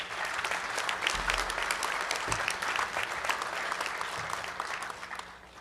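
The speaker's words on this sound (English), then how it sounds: "Let's everyone give them a great round of applause." An audience at a town inauguration ceremony applauds, a sustained wash of many hands clapping at moderate distance that fades slightly toward the end.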